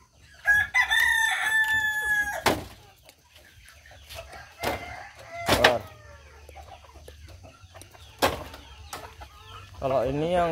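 A rooster kept in a backyard chicken flock crows once, close and loud, near the start. Clucks, other bird calls and a few sharp knocks follow over a low steady hum.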